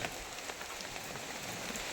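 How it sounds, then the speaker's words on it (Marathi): Steady, dense rain pouring down, a continuous broadband hiss of heavy drops striking surfaces with no voices. "पाऊस पण खूप पडतोय"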